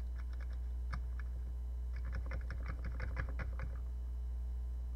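Keys on a Commodore 64 keyboard wired to a Raspberry Pi Zero are pressed in irregular clusters of crisp, close clicks and taps over a low electrical hum, with no talking.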